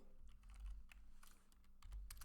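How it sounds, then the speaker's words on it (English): Quiet, uneven computer keyboard typing in a room, a loose run of soft clicks and key taps at a slow pace over a low background hum, with no voices. "I'm over here typing slow"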